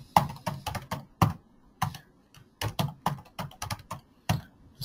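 Passwords are typed on a computer keyboard in a run of crisp, close keystrokes, irregular bursts of clicks with short pauses between groups and no voices.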